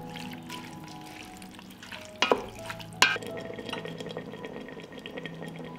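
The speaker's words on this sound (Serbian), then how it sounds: "i nastavljam da pržim" Green beans frying in a pan with salt added, stirred with a few sharp scraping clinks of a utensil over a steady low sizzle, close and moderately quiet.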